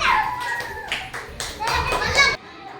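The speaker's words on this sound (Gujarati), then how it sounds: "આવો તાળી પાડો" Children clapping their hands during a group game, quick bursts of claps, close and lively, mixed with children's chatter and an adult voice.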